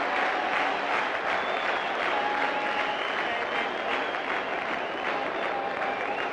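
Large crowd at Gaddafi Stadium in Lahore cheering and applauding a six during a 1996 cricket match against the Netherlands, a dense, steady roar of clapping and voices sustained loudly throughout.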